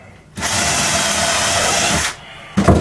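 A power drill bores a pre-drilled hole through a knot in scrap wood while building a saw stand, one sustained loud whine of about two seconds, close, then stopping, with a brief clatter just after.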